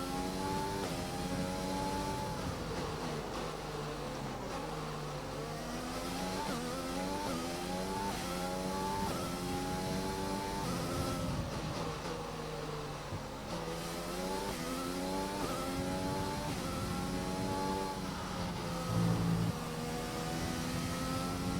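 A lean-fuelled F1 2020 race car engine from the video game drones steadily throughout, its pitch rising and falling with repeated upshifts and revving, loud and continuous with no talk over it.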